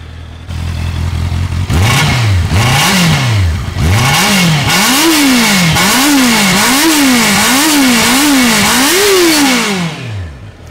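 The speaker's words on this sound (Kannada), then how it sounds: "ಸೊ ಒಂದ್ಸಲ ಈ ಗಾಡಿದು ಎಕ್ಸಾಸ್ಟ್ ನೋಟ್ ಕೇಳೋಣ ನಾವು." A 2025 Honda CBR 650R with an inline engine, revved repeatedly in loud, close rising-and-falling sweeps. About nine throttle blips come in a steady rhythm, each peaking higher over an idle burble, with no talk.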